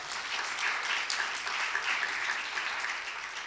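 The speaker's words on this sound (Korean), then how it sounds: "네, 박수 부탁드립니다." A congregation applauds during a Friday-night Holy Spirit worship gathering at a church, a steady, dense wash of clapping hands that holds at an even level throughout, with no speech over it.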